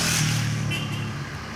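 A father's car drives off, its engine a steady mid-distance drone that slowly fades and thins as it pulls away, with no clear talk over it.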